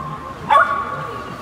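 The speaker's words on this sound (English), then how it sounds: "But I see you guys barking." A dog gives a single short bark or yip amid a group of foster puppies waiting for adoption, close and brief against quiet background talk.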